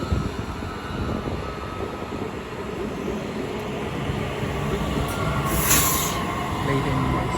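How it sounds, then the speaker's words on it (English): A pair of TransPennine Express Class 185 diesel units pass through Deansgate, a continuous loud rumbling roar of engines and wheels on rails that builds slightly, close by, with a brief high squeal near the end. "As soon to pass will be a Trans-Pennine Express pair of 185s working a service from Doncaster to Liverpool Line Street."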